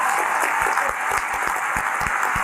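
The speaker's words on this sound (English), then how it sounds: "Clap along, Corelli. Clap along." A crowd claps along in a steady rhythm, sharp regular beats riding over a loud, dense wash of general applause, close and continuous.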